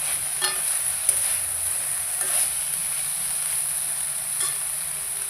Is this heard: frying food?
yes